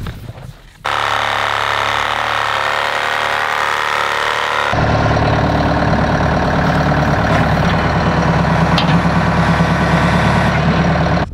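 A homestead tractor runs steadily while roots are cleared, its engine giving a loud, continuous low rumble that steps up in intensity partway through, with no speech over it.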